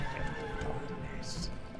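A horse whinnies in the video game Warcraft 3 among hooves clip-clopping, the neigh quiet and brief within the in-game sound.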